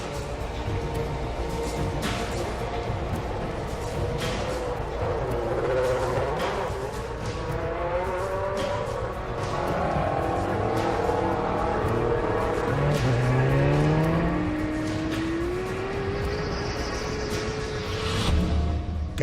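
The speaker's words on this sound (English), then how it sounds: "David deliberately spins his rear tyres to make them hotter and stickier, so he has more grip off the line" Racing car at Silverstone on a slow outlap, its engine droning steadily and close up with rising and falling pitch sweeps as the revs climb and the rear tyres spin, alone without talk.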